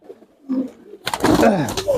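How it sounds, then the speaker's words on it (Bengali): Soft low cooing from pigeons kept on a rooftop, quiet at first, then a louder burst of overlapping coos and throaty calls close by with some rustling. "দেখাইতেছি আমি কবুতরগুলো এক এক করে"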